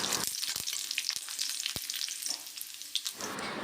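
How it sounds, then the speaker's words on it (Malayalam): Chopped ginger and garlic fry in hot oil with a steady close sizzle, a few sharp spatters and soft stirring scrapes running throughout. "എണ്ണ ഒഴിച്ച് അതിലോട്ട് ഇഞ്ചി വെളുത്തുള്ളിയൊക്കെ നന്നായിട്ടൊന്ന് ചോപ്പ് ചെയ്തിട്ട് കൊടുത്തിട്ടുണ്ട്"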